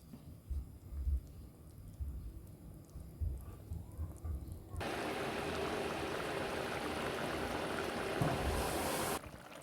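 Salmon fish curry cooks in a pan, quiet rumbling at first, then a sudden switch to loud, steady bubbling sizzle that holds for several seconds before cutting off, no voices.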